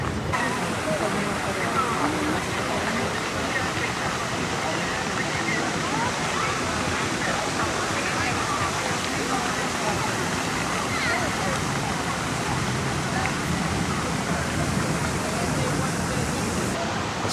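A park water feature on Margaret Island in Budapest splashes in a steady, broad rush of falling water that fills the scene continuously at moderate distance, with no break in the sound.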